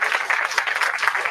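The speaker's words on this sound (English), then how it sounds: "One more round of applause" A crowd claps steadily at an outdoor groundbreaking ceremony for a senior living community center, a dense, even patter of many hands that holds at a constant level throughout, with no voices over it.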